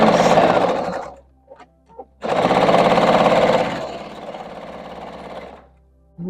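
A sewing machine stitches quilt pieces for a Christmas Kisses quilt in two loud, steady runs of rapid mechanical whirring, broken by a short pause with small handling clicks and ending in a quieter stretch.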